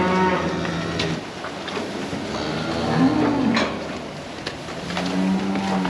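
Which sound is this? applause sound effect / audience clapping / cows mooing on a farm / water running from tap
cows mooing on a farm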